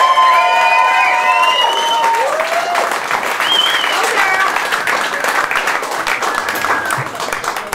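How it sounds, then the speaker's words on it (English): Guests at a birthday quiz party break into steady, loud applause with cheers and whoops rising over the clapping throughout. "Big round of applause"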